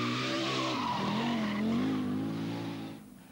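A 360-horsepower Audi Quattro rally car at the 1983 Lombard RAC Rally charges along a twisty stage, its engine note rising and falling close by with tire scrabble before fading away.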